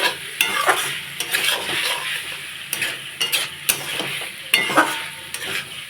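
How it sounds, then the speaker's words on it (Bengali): Potatoes being stir-fried in a pan for a Bengali ridge gourd, potato and prawn dish, with a steady sizzle broken by repeated scraping stirs in an irregular rhythm, close and fairly loud, no talking. "আলুটা খুব ভালো করে কষানো হয়ে গেছে"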